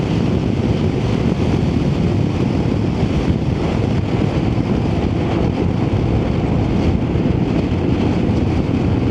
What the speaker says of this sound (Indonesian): Kondisi angin kuat teman-teman